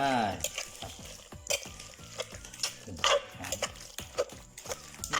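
Sliced shallots go into a pot of pea soup and are stirred, giving a busy run of scraping, clinking stirs over a steady sizzle, close and moderately loud, with no talk.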